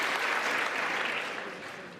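Members of Congress applaud at the State of the Union address, a dense, sustained wash of clapping that tapers off slightly at the end.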